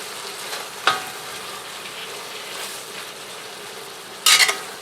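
Korean-style BBQ stir-fry sauce bubbling and sizzling in a cast iron wok on a wood cookstove, a steady crackle broken by a clack near the start and a sharp burst of louder sizzling near the end.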